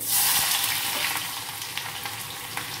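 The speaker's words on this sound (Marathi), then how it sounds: "तेल तापत ठेवलेलं आहे, त्यामध्ये कांदा ऍड करायचे" Two finely chopped onions sizzle and crackle in hot oil, a close, steady frying hiss with scattered sharp pops, fairly quiet overall.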